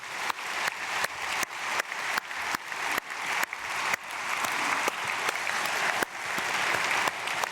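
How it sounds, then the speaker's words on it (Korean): A church congregation claps together in blessing during an early-morning prayer service, sustained, dense applause with bursts that swell and restart several times, fairly close and loud throughout. "박수로 축복하겠습니다."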